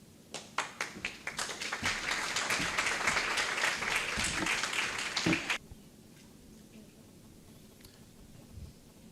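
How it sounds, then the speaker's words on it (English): Audience applause at a lightning talks session, starting with a few scattered claps, swelling into a full, dense round of clapping, then stopping abruptly and leaving quiet room tone with faint stray noises. "An applause."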